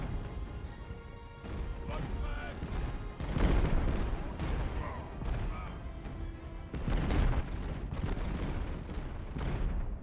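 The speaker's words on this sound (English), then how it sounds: "the mortar hit this unit and nobody died" Mortar shells and cannon fire in Ultimate Admiral: Age of Sail land as a string of booming impacts and crashing blasts over a steady battle rumble, loud and close with gunfire rolling on.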